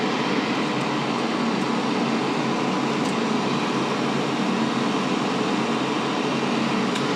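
Steady, loud broadband whoosh of a vacuum running on a VHS tape mold cleaning machine, a constant airy drone with no variation and no talking.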